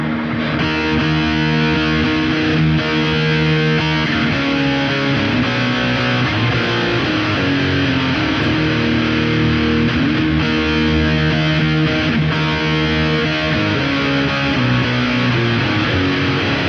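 An electric guitar in alternate tuning runs through two Eventide H90 effects units, producing a loud, continuous, heavily processed and distorted tone with sustained chords throughout.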